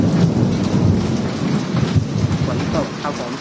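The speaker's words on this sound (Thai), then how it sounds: "ฝนตกครับผม" Heavy rain pours steadily outside a house beside a neighbouring home, with rumbling thunder rolling underneath throughout, loud and close.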